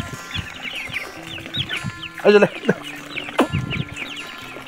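Chickens cluck and squawk nearby in a village yard with goats around, a few sharp louder calls over steady background clucking, while a person speaks briefly.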